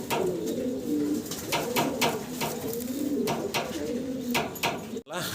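Fancy pigeons, a breeding pair on a farm, coo in repeated soft throaty phrases nearby, with scattered sharp clicks and rustles around them and a short break near the end.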